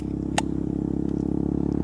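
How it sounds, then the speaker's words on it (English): A KTM Duke 200 motorcycle fitted with a LeoVince exhaust idles close by, giving a steady, deep, throbbing burble with one brief sharp click near the start. "this bike sounds amazing too because I put a LeoVince exhaust on"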